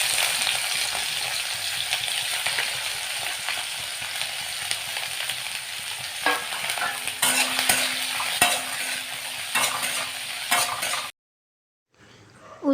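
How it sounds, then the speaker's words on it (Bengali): Bitter gourd and potato fry in a small wok with a steady sizzle and frequent scraping stirs of a spatula, then the sound cuts off briefly near the end. "উচ্ছে আলু ভাজাটা তো বসিয়ে দিলাম,"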